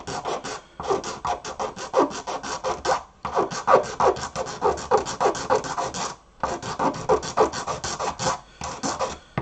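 A file rasping over a small model part in rapid, even back-and-forth strokes, three close, loud bursts separated by short pauses, with no voices.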